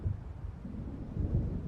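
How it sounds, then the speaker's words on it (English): Thunder from a coming storm in the video game Alan Wake Remastered, a low continuous rumble that swells and fades, deep and fairly loud, with faint rain-like hiss and no voices. "It seems there's a storm coming."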